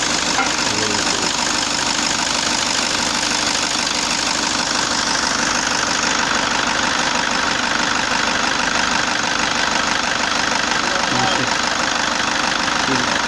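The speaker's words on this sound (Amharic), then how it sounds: "የዲፎርዲ ነው ሞተሩ።" A Toyota D4D 2KD diesel engine idles with a steady, loud mechanical clatter and knock while injectors are cut off one by one in testing. The sound is continuous and close, with a voice talking over it.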